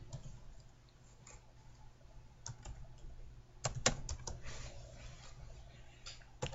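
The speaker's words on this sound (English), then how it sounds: "we're going to type in here sales 2015" Fingers tapping on a computer keyboard, quiet and close, with a sparse run of keystrokes that picks up into a quicker cluster of clicks toward the middle and end.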